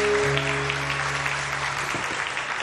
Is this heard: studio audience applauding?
yes